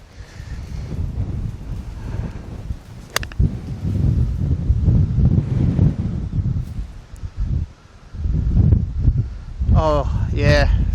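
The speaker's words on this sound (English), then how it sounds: "because we're up about pretty much as high as we get on this golf course today, the wind is very much an element here." Wind blows across a high point on a golf course, a constant low buffeting rumble against the microphone with brief gusty dips, while someone talks over it.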